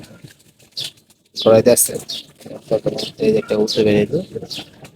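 Soft coos from pigeons being fed, including a visiting pigeon, sound beneath a person talking nearby, the voice dominating in short bursts with quiet gaps between.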